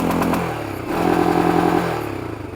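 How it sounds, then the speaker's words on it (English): A motorcycle engine revs hard and holds against its rev limiter, a loud buzzing drone that climbs, sits pinned with a stuttering edge for about a second, then eases off. "That's a rev limiter."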